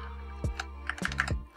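Individual key presses on an A4Tech Bloody B418 optical keyboard, a handful of soft, close clicks spaced unevenly with quiet pauses between them.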